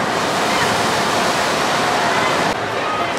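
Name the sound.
water ride splash at theme park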